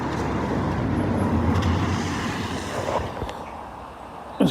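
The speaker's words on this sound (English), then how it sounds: "Hopefully you can hear me with all these traffic about." Road traffic rumbles steadily past near a river bridge, a broad continuous wash of vehicle noise at moderate distance that fades slightly toward the end, with no talk.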